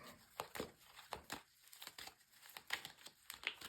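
Quick bursts of papery tarot card riffling and flicking, several short crisp rustles in an irregular rhythm, close and fairly quiet with no talking.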